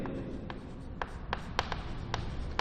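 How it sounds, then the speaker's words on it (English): Chalk or marker writing on a board in a physics lecture: a series of short, crisp scratchy strokes at an irregular rhythm over a low room hum, fairly close and moderately quiet, with no talk. "I will write E resultant."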